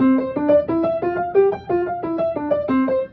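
Fast piano figure of quick repeated note pairs played with alternating hands, moving stepwise up and back down, bright and bouncy, played alone with no voices.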